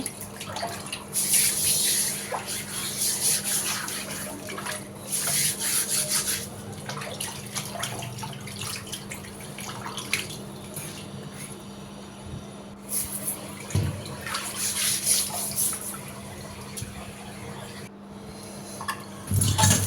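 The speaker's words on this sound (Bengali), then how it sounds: "এখন পাটাটা আমি সুন্দর করে ধুয়ে নিচ্ছি" Tap water runs steadily while a stone grinding slab is rinsed and scrubbed in a sink, with splashing and rubbing close by for the whole stretch and no talk over it.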